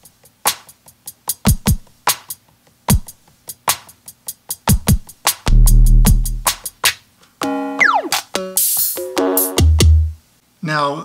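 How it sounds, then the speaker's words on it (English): Vermona DRM drum machine samples triggered from pads: sharp kicks, snappy clicks, a booming low hit and tonal zaps play one after another, loud and dry with short gaps between them. "I have loaded onto these pads some Vermona DRM samples."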